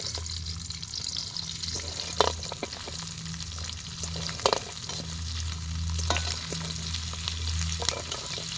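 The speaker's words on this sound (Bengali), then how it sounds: "এবার আমরা চিলি চিকেনের পেঁয়াজটা ভেজে নেব" Sliced onions fry in hot oil for chilli chicken at an outdoor picnic, giving a long steady sizzle with a low hum beneath and a few sharp stirring clanks spaced apart, no voices.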